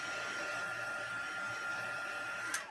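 Steady whirring blast of a handheld heat dryer blowing air over a stamped paper craft piece, close and continuous, switching off abruptly near the end.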